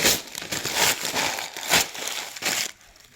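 Tape is pulled and pressed down over items in a birthday gift basket, producing close, loud crinkling and tearing bursts in several quick rounds before the sound drops away near the end.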